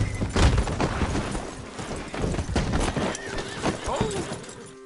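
A horse whinnies amid clattering hooves and busy Red Dead Redemption 2 game effects, loud and close, with a voice briefly audible in the mix.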